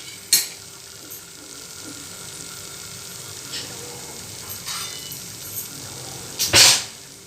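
Dry fruits roasting in ghee with a soft background sizzle, several brief spoon scrapes and stirring clinks against the pan, and a sharper clatter near the end.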